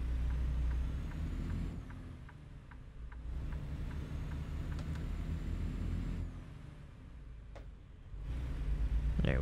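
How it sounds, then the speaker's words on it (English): Truck engine idling in American Truck Simulator with a parking air brake engaged, giving sharp hissing bursts of released air over a steady low rumble that dips and then swells again. "Put our parking brake."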